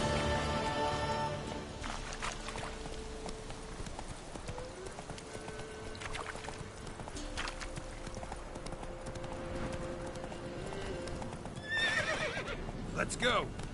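Roach, a horse in The Witcher 3, trots with steady clip-clopping hooves and whinnies loudly near the start, while faint rain and a low background tone run underneath.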